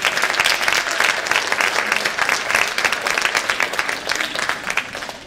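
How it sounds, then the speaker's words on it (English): An audience at a school spring concert applauds steadily, many hands clapping together in a dense, continuous patter lasting several seconds. "I'd really like to give you a round of applause"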